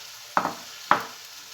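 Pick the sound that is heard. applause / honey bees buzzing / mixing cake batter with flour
mixing cake batter with flour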